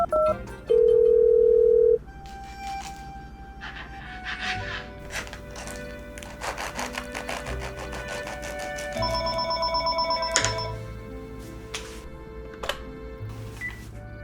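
A telephone rings in a Garfield cartoon, a short steady electronic tone up front followed by cartoon music and effects, with no talking.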